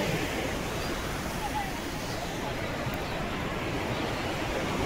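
Surf on the sea beach at Puri gives a steady, broad roar of breaking waves, with wind buffeting the microphone and no clear pauses throughout.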